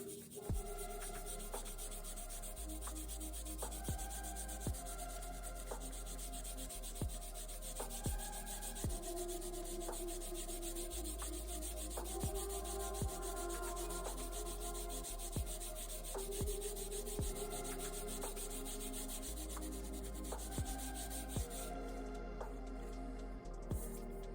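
A magic eraser rubs back and forth over the contacts of an NES game cartridge, a quiet, steady scrubbing with regular repeated strokes, close up and without talk.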